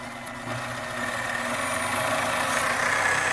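A pneumatic jigsaw runs beneath a table saw table with its air hose fed through the table slot. It gives a steady, loud mechanical whir and hiss that rises slightly in intensity, with no talking.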